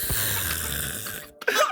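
A man imitates a woman's loud snoring with his voice, a short throaty rasp lasting about a second, followed by a brief breathy vocal sound, up close and alone without speech.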